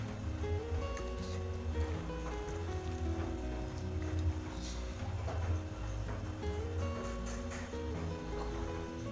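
Steady rain patters on a surface through a kitchen scene, a constant dense wash with scattered drop sounds, fairly loud and unbroken, with no voices.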